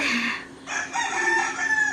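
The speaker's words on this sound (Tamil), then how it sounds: "ஒரு சாவல் நின்று குக்கு குக்கு கூன்னு கூவுது" A rooster crows once, a drawn-out cock-a-doodle call, fairly close and clear against a quiet background.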